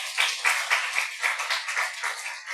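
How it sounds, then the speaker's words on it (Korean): A church congregation at a Sunday service claps in a quick, steady rhythm, the sound thin and somewhat distant, continuing evenly for a couple of seconds. "박수 한번 해주십시오."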